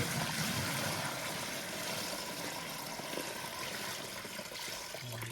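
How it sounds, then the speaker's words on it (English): Water is poured into the sump of a garden pond pump, giving a soft, steady trickling wash that is fairly quiet and continuous. "So we just want to pour some water into the sump area."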